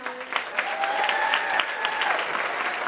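An audience at a parenthood storytelling event claps for the storytellers, a sustained round of applause with a few cheers and voices rising through it.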